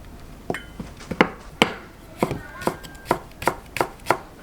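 A knife chops an onion on a cutting board in a home kitchen: about a dozen crisp, separate knocks in an uneven rhythm, close and clear, with no talking.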